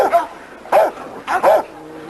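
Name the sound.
small dog barking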